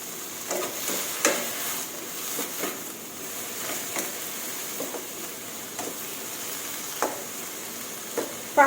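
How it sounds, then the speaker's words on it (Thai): Winter melon stir-fried over high heat in a pan, a soft sizzle under repeated spatula scrapes and taps at an uneven pace, close and moderately quiet. "เปิดไฟแรง ผัดฟักให้สุกค่ะ"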